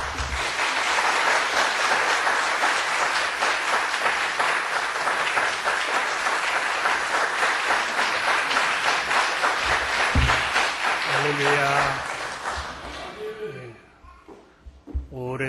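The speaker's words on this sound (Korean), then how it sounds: "목사님을 박수하시며 맞이하시기 바랍니다." Congregation in a church applauding to welcome a pastor to the pulpit, a loud dense sustained clapping for about twelve seconds before it tapers off, with a voice speaking at the end.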